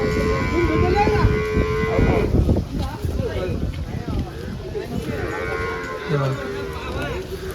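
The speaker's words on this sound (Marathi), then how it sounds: "हे बघा मोठ्या म्हशी दुधाच्या" Large dairy buffaloes moo at a summer buffalo market in Dhule, with long, low, drawn-out calls close by and voices murmuring in the background.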